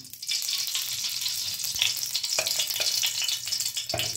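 Ghee sizzles in a kadai with a steady, bright crackle that holds for several seconds, with a few sharper pops and stirring clicks and no voices.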